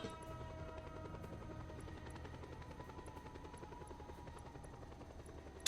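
Steady rotor chop of a combat helicopter in the video game Just Cause 2, a continuous rhythmic thumping and whine that stays even, fairly faint, with no voices.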